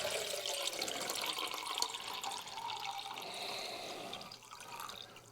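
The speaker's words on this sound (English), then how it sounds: "so let's pour a little water in here." Water pours into a pot outdoors, a soft continuous splashing trickle that lasts a few seconds, fairly faint and then tapering off.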